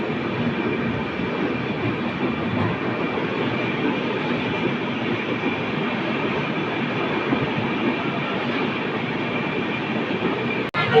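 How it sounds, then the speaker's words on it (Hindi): An express train pulls out of Renigunta Junction, heard from on board as a steady rumble of wheels and carriage noise with faint rail clatter throughout, ending in a sharp knock. "फाइनली 5 मिनट रुकने के बाद रेनीगुंटा जंक्शन से हमारा डिपार्चर हो चुका है"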